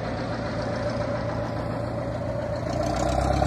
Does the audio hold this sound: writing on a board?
no